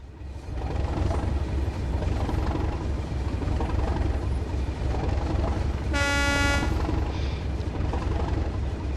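A train in Train Sim World rumbles and clatters along the Tees Valley Line, then sounds one loud, harmonic horn blast lasting about a second over the steady rolling noise.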